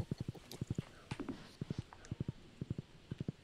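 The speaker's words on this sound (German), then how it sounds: "Ich reite mal zum Strand." A horse ridden in the farming video game Stardew Valley gives crisp, close hoof clip-clops in quick rhythmic clusters of three or four beats. Short gaps separate the clusters, and no one talks.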